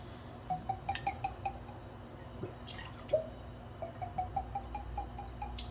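Brandy being poured for a cake batter gurgles softly, a quiet series of rhythmic bubbling glugs with a brief clink partway through.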